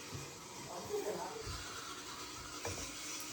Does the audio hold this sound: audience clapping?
no